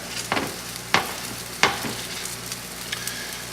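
Meat patties fry in a pan with a soft, steady sizzle, broken by a few sharp taps and scrapes as they are pushed apart, close but fairly quiet.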